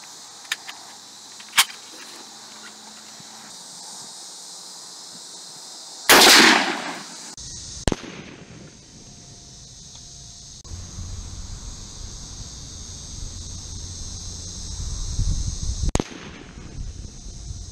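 M1 rifle shots fired at old hard drives: a few sharp, loud cracks with one long blast, then a steady high whine and hum of the damaged drive, no talking.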